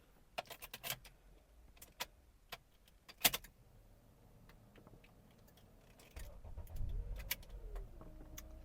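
A 2011 Honda Accord Type-S engine cranks with the key after a few small clicks and taps, then catches and settles into a low, steady idle close by.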